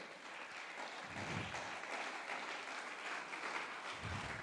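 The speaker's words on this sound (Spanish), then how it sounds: "Si le va a dar ese aplauso, déselo bien grande" A church congregation applauding, a fairly soft, continuous spatter of many hands clapping, steady and with no voices over it.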